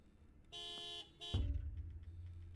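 In a horror video game, a car horn outside gives two sustained honks, followed by a low rumbling thud and dull background noise; faint and fairly distant.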